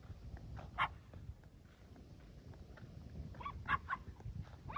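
A dog outdoors among trees gives two sharp, loud barks a few seconds apart over a low, steady rumble of background noise.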